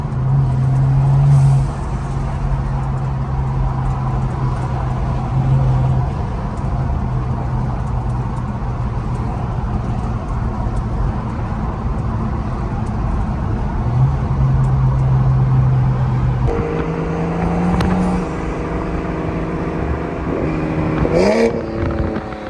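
A big-turbo BMW 440i B58 engine drones continuously at a steady, loud pitch, with brief surges and a sharper rev climbing near the end.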